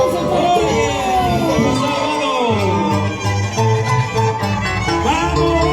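A crowd at a scissors dance event in Añancusi shouts and cheers loudly and continuously, with excited voices calling out over the noise throughout.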